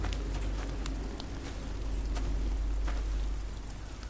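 Steady rain falling in The Walking Dead Season 2 game, a constant soft hiss with scattered drop ticks and a low rumbling undertone, alone without talk.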